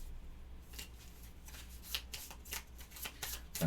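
Playing cards for the board game Sentinels of the Multiverse being shuffled at close range, a run of quick riffling bursts over a quiet background with no talking.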